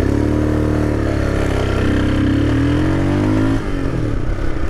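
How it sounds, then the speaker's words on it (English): A modified Royal Enfield Himalayan with a big bore kit and cam revving hard on a dyno, a loud, close engine climbing and holding high revs before dropping off sharply near the end. "It is so easy to over rev in this with these mods."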